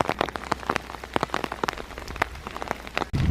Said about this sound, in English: And it started raining again.